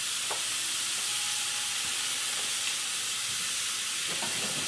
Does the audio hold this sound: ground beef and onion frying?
yes